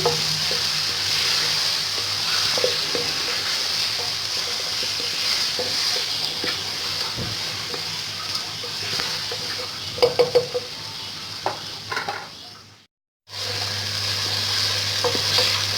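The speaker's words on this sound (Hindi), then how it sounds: "अच्छी तरह से भूनते रहेंगे ताकि चिकन हमारी ब्राउन कलर में आ जाए।" Chicken is stir-fried until browned for yakhni soup, a steady close sizzle with occasional spatula clinks against the pot, briefly cutting out near the end before resuming.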